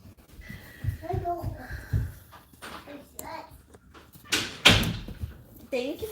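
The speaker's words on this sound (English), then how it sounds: "Thank you for closing the door." Indoors, a door shuts with one sharp, close knock among a small child's chatter and an adult's voice.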